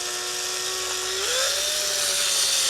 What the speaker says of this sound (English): keeping the speed down on the drill so don't make a lot of mess